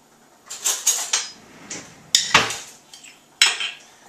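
Dishes and cutlery clatter and clink during a quick kitchen clean-down, a string of sharp metallic and ceramic knocks in uneven bursts, close and fairly loud, with no talking.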